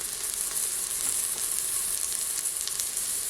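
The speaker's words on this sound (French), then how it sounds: "les oignons commencent à dorer" Onions sizzle steadily as they fry and brown in a pan for a curried turkey sauté. The frying is continuous, close and fairly loud, with no talk.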